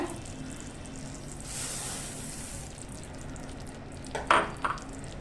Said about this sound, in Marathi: आता आपला गूळ आहे ना पूर्णपणे वितळलेला आहे पण एक उकळी येऊ देत गुळाला आता छान अशी चांगली उकळ आलेली आहे आता आपण यात आहे ना तीळ टाकून घेऊया